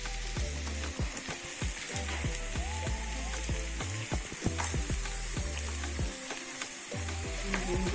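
Chicken leg pieces fry on a bed of onions in a hot pan, giving a dense continuous crackling sizzle with scattered sharp pops and spits, close and loud without a pause.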